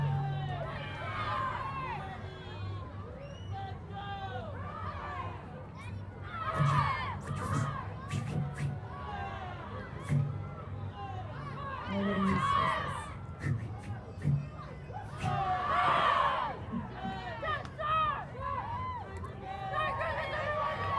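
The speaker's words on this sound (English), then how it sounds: "keep that applause going" Crowds line the street at a Christmas parade in Chilliwack, cheering, shouting and clapping as a martial arts group marches past. Children's shrill cries rise in loud bursts over a steady roar of chatter and applause.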